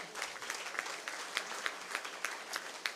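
An audience claps through a speech event attended by a health minister, a dense, moderately loud round of applause with sharper individual claps standing out throughout.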